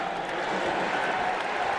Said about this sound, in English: gets an ovation from this crowd